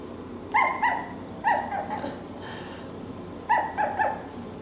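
A 4-week-old toy Aussiedoodle puppy lets out high, yappy barks in short bursts of two or three, close by, with brief pauses between.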